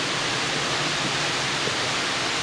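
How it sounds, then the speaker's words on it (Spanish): Lake water rushing down through a tunnel beneath the lake, a steady, loud, unbroken roar of flowing water filling the space without pause. "Ya pueden oír el agua, ese es el agua bajando del lago."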